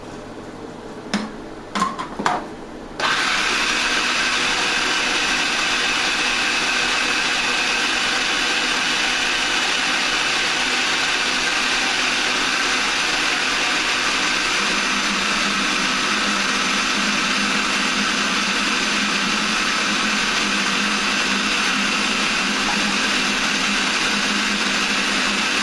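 A blender whirs continuously while blending dates for raw caramel, a steady loud motor drone that starts abruptly after a few brief clunks and runs unbroken at close range for over twenty seconds.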